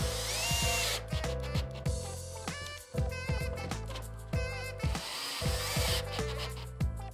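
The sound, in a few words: power screwdriver driving screws into plasterboard ceiling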